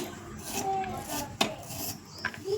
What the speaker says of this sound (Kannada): ಉದ್ದಕ್ಕನಿಗೆ ಸಣ್ಣದಾಗಿ ಉದ್ದನೆಗೆ ಈರುಳ್ಳಿನ ಹೆಚ್ಕೊಳ್ತಾ ಇದ್ದೀನಿ